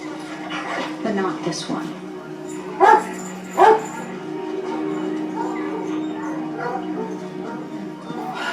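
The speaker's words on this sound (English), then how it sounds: "The dogs need a break." Two short, sharp dog barks ring out a moment apart during a search scene in the TV series Wednesday, under and between ongoing voices talking.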